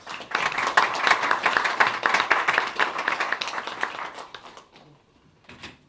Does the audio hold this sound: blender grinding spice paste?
no